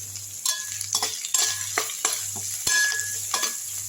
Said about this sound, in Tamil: நல்லா வதக்கி விட்டுருங்க